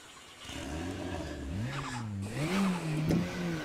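Turbocharged KTM X-Bow GT4 race car in the RaceRoom sim game cranks and fires up, its engine note rising and wavering through a few revs, loud and close with no talking.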